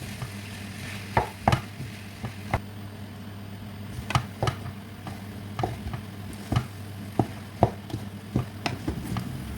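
Crayfish being stirred and turned in a cooking pot for okra soup, giving a steady low bubbling sizzle with repeated sharp scraping knocks of the spoon against the pot, close and fairly quiet, with no talking.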